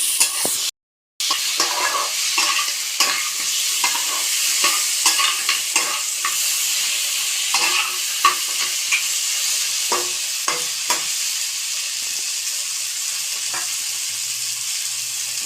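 Crab and potato curry sizzles and fries in a pan, with repeated scraping strokes of a spoon stirring through it under a constant hiss, close and fairly loud, with no talking.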